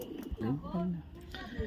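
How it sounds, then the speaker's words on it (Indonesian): A caged bird, likely a dove kept for competition, gives a short, soft cooing phrase close by at a contest, with faint voices and crowd noise around it. "ini burung yang bikin Mas Haki viral lagi ini"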